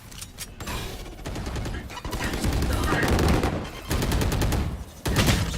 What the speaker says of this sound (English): A little bit of a wall bang here.